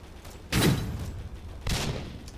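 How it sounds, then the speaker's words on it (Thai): Two heavy cannon blasts from a Roblox video game, the strongest artillery gun, go off about a second apart, each a loud, sharp boom that fades into a rumbling tail. "เป็นปืนที่แรงสุดแล้วนะครับ ในบรรดาปืนใหญ่"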